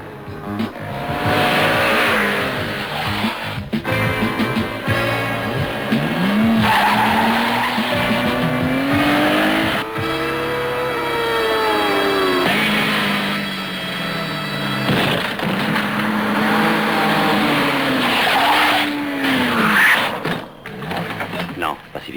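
A car races at speed in a 1970s film chase, its engine revving and tires squealing in long, wavering skids that rise and fall, loud and close throughout.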